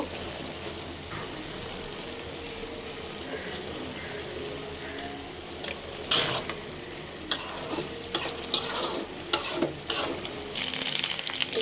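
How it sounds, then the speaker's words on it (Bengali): Steady sizzling of onions frying in a pan until reddish-brown, with a run of sharp stirring clatters and scrapes in the second half. "আমার পেঁয়াজটা ভাজা হয়ে গেছে লাল লাল করে"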